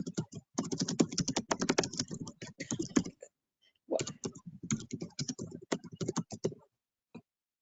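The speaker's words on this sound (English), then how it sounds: "Let's mute Marina while she's typing." Rapid typing on a computer keyboard during an online planning and zoning board meeting, close clicking keystrokes in dense bursts with a brief pause midway.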